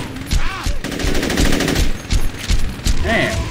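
Video game gunfire in Saints Row 2 crackles in rapid bursts of loud automatic shots, several quick volleys close together over about three seconds.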